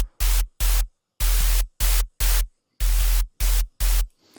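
Synthesized white-noise bursts layered with a deep sub bass play in a choppy rhythmic pattern, about nine loud blocks cut by sharp silences, in a heavy deathstep-style bass patch.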